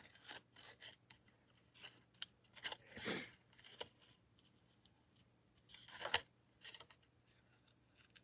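Scissors fussy-cut a small paper image in a quiet papercraft setting, with scattered soft snips and paper rustles plus a few louder crunchy cuts, close and faint overall.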